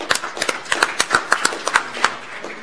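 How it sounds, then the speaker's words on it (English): Scattered hand claps from a small workshop audience, a dozen or so sharp irregular claps spread over a few seconds, fairly close and with no talk over them. "So we're going to give you a round of applause."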